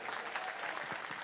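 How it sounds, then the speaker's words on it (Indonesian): A seated gathering at an Islamic religious assembly claps for a guest, producing a brief, fairly quiet patter of scattered applause. "tepuk tangan buat Mas Arif"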